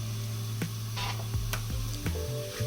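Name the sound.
julienned carrots sizzling in a pan, stirred with a wooden spatula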